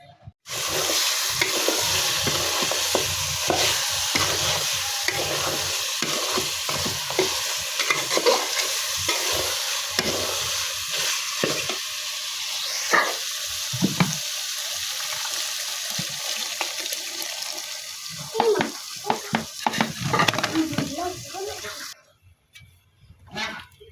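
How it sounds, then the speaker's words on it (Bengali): Sliced onions are frying in hot oil and being stirred for biryani, with steady sizzling and repeated scraping stirs continuing close by, with a few brief clatters near the end and no talking. "ওইদিকে পেঁয়াজগুলো আমি বেরেস্তে করে রাখছি"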